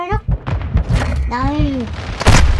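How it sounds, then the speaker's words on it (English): Grenade blast in Call of Duty: Modern Warfare II, a heavy boom near the end amid game gunfire thumps, with a voice speaking and a pitched chirp over the busy mix. "Tossing grenade! Did I throw it far enough?"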